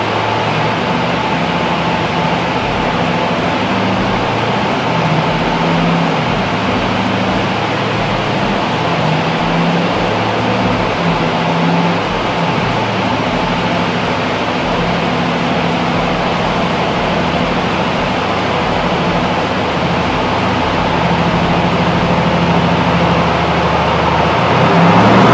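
A turbocharged car engine running up on a dyno at about 17 psi of boost, producing a steady, loud, continuous drone with a low rumble that holds throughout, with no voices.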